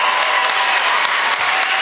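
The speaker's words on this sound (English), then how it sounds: "It got a huge applause, right?" A debate audience breaks into loud, dense applause, a continuous roar of clapping with a few crisp claps popping out near the front.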